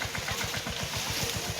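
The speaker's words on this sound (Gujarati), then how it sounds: "હવે ટ્રેક્ટર આવે છે" A tractor engine chugs steadily nearby with a rapid, even diesel thump on a farm at harvest, with no voices over it.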